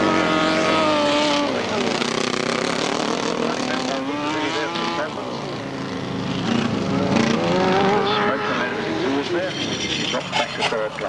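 Sidecar motorcycles racing on a grass track, engines roaring loud and continuous with shifting pitch as outfits pass, under an announcer's commentary throughout.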